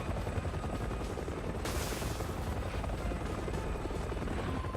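Helicopter in the video game Resident Evil 6, a loud continuous rotor thrum that fills the whole stretch, with a brief hissing burst partway through and no speech.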